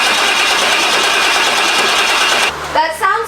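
A rebuilt 7.3 Ford diesel engine in a 4x4 Econoline van cranks with a loud, steady, rapid churning for a couple of seconds without firing, then stops as someone starts speaking.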